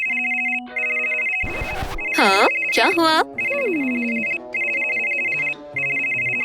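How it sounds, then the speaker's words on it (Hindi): A phone ringtone repeats in steady electronic bursts, broken by loud cartoon sound effects and brief pauses, with a voice answering over the ringing. "रूमी का फोन बज रहा है।"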